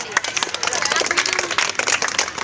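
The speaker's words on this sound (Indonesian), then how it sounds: "beri tepuk tangan" Students in a classroom clap together, a dense burst of rapid hand claps that fills the whole moment at close range, with voices mixed in.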